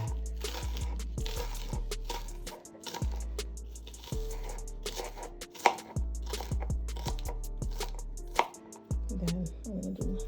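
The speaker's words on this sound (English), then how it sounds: "I'm gonna cut my scallion" A knife chops scallions on a cutting board, close up: a long run of crisp, regular thuds with brief pauses between bursts, the blade striking steadily and loudly with no voices.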